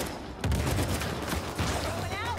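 Automatic weapon fire in an Uncharted 4 multiplayer King of the Hill match, a steady run of rapid shots lasting a couple of seconds, loud and close amid game sounds.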